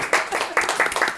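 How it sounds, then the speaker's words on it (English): A game show audience claps for the winner inside a 500-year-old house, a short burst of brisk, close handclaps with a few louder accents, fading within about a second. "So today's winner, give him a round of applause, is Luke Jordan."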